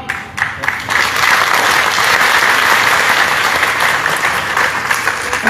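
An audience clapping at a live Shiv Charcha religious discourse, a few scattered claps building quickly into loud, sustained applause from a large crowd.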